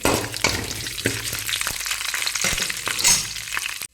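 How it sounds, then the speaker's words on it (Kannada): Curry leaves sizzle and crackle steadily in hot oil in a pan while Udupi-style chitranna is being cooked, with close, continuous frying noise and a few sharper pops and scrapes. "ಬೇವಿನ ಸೊಪ್ಪು ಸ್ವಲ್ಪ ಹಾಕ್ಕೊಂಡು ಸ್ವಲ್ಪ ಫ್ರೈ ಮಾಡ್ಕೊಳ್ಳಿ"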